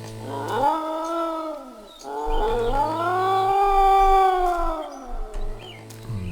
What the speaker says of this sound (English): Sounds like we have a ghost of a cat or something.